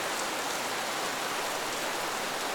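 Steady rain falls on Paris streets, a dense even hiss with no pauses, close and continuous and free of voices.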